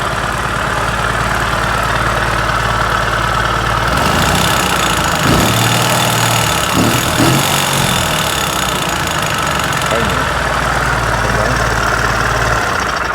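A Fiat 126p engine with a rag stuck on the piston and pressed into the valves runs steadily and loudly close by, a rough knocking idle throughout with no talk over it.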